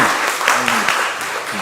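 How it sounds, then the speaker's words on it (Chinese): Congregation applause welcoming a new member into a Taiwanese-language church service, a brief burst of clapping with a voice briefly audible over it. "我们用掌声来欢迎凯婷成为我们当中的一份子"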